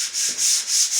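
Sandpaper is rubbed by hand across the finish of a vintage Gibson Les Paul Custom guitar, a close, steady hiss repeating in even back-and-forth strokes about every quarter second, with no voices.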